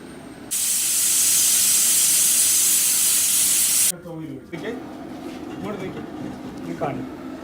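A pressure cooker of chickpeas in a police camp kitchen lets out a loud, steady steam hiss for about three seconds, then cuts off abruptly, followed by a person talking.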